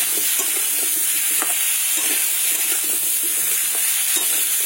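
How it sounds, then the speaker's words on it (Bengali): Potato and large-cut pumpkin pieces frying in a pan as they are stirred, a loud dense sizzle with frequent scraping and tapping strokes throughout, close and without speech. "আলু কুমড়োটাকে এইভাবে একটু নাড়াচাড়া করে নেব"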